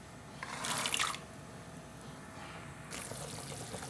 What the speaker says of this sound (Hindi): यखनी को उबाल आ चुका है।